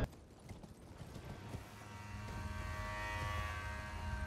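A giant goat in the video game Elden Ring clops along on its hooves, a steady run of hoof impacts that builds into a louder, denser rumble over a droning game soundscape.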